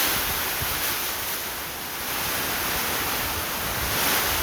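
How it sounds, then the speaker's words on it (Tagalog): Strong typhoon wind at Signal Number 4 in Saint Bernard, Southern Leyte, a dense, roaring rush of air that stays loud and constant, swelling slightly toward the end, with no voices. "Grabe, nag-urot-urot ang hangin"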